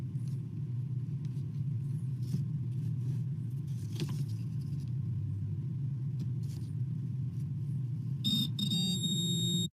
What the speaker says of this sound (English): Did you hear the buzzer? It was loud.